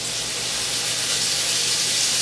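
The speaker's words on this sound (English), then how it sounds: "By brown it, I mean I'm going to fry it" Ground beef browning in hot bacon grease gives a steady, loud, close sizzle and hiss that runs unbroken, with no voices.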